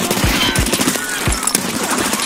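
Automatic gunfire in the video game Escape From Tarkov, a rapid burst of shots with low thuds, set against steady background game noise in the labs map.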